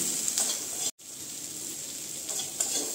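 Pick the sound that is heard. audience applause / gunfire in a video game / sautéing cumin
sautéing cumin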